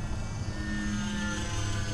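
A small UMX Pitts remote-control model airplane with its electric motor droning steadily as it flies a loop, a constant whir that rises slightly in pitch, heard alone with no voices.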